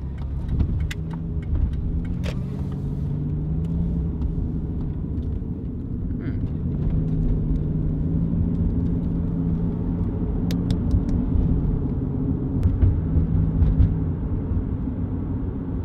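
A car driving at steady speed, its low engine and road rumble continuous and fairly loud throughout, with faint cabin rattles over the drone.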